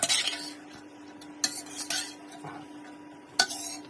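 Colourful sliced peppers being stirred and swirled in a pan, with several sharp metallic clinks of utensil on pan over a faint background sizzle.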